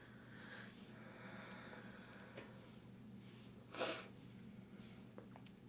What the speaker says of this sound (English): The sniffles today, I'm sorry.